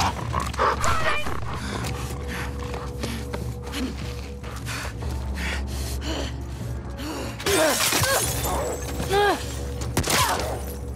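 Dogs bark in The Last of Us Part II as several sharp, fairly close bursts, mostly toward the end, over steady game ambience and tense music.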